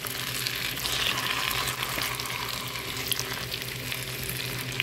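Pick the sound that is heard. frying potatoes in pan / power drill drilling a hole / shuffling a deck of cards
frying potatoes in pan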